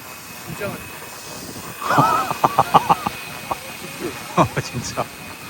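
Flywing BO105 RC scale helicopter flying outdoors in wind, a steady faint rotor and motor hiss underneath, while people talk close by over it.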